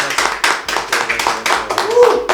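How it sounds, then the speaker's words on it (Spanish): An audience claps to welcome Roy to a talk, a close, uneven run of sharp handclaps at a quick pace, with a voice speaking briefly underneath near the end. "Un aplauso para Roy."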